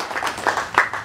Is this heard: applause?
yes